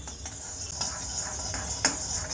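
Coriander seeds dry roasting in a kadai over medium flame: a continuous dry rustling hiss with a few soft scrapes of a stirring spoon, close and steady, no speech.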